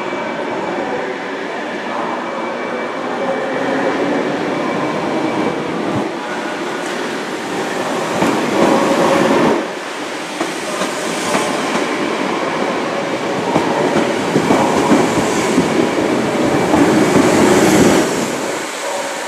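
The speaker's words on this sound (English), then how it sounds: "departing now will be the 1223 Southern Service to West Worthing with 313213." A Southern class 313 electric train departs Brighton station, a steady loud rumble with rhythmic wheel clatter and rising motor whine as it pulls away, with no talk.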